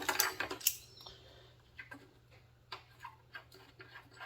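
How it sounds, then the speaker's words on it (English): Vice grips clicking onto and unscrewing a muffler on a Briggs and Stratton 3 to 5 horsepower lawn mower produce a scrape and metallic clicks, then a series of small, quiet, close ticks and creaks. "you click those on and you unscrew it like so"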